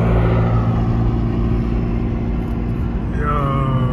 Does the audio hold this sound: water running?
no